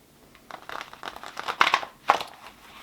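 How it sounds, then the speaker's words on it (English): Crisp papery riffling and crinkling as tarot cards are shuffled close by, in quick bursts with two sharper flurries near the end. "That was a bad shuffle"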